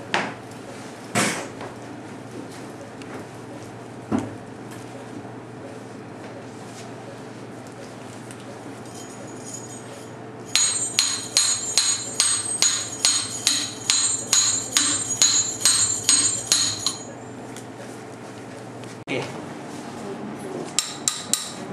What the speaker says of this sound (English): Slotted hammer.